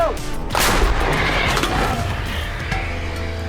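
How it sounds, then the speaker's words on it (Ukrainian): A single heavy shot from an MT-12 Rapira anti-tank gun booms out, followed by a long rumbling echo that slowly fades into the distance. "Це МТЛБ, тягач і гармата МТ-12, рапіра протитанкова. Постріл!"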